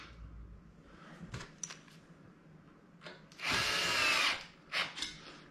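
A power drill or driver runs in short bursts, with one longer sustained whir near the end, as screws are tightened while assembling a rolling TV stand; close, with no talk.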